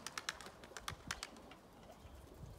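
Pigeons at a coop, with soft low cooing mixed with several sharp close clicks and taps from birds moving about, fairly quiet.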